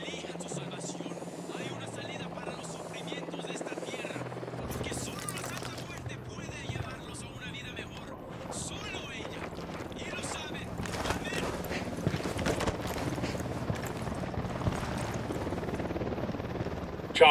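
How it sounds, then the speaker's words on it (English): A helicopter in a video game approaches, its steady rotor thrum running low and continuous through the scene alongside other game noise, with people speaking over it. "Chopper's approaching."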